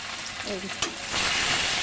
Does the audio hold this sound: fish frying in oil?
yes